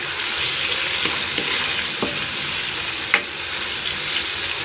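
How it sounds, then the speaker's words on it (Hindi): Garlic paste frying with browned onions in a pan gives a steady, close, bright sizzle with a few sharp pops and stirring scrapes, and no talking. "तो देखें, ये अच्छे से भून रहे हैं हम"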